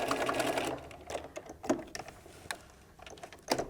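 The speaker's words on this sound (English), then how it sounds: "I'm just literally sewing straight down that middle line there" A home sewing machine stitching a straight seam down the middle line of a quilted tool pouch, with a quick rhythmic mechanical chatter in short bursts and brief pauses, close and fairly quiet.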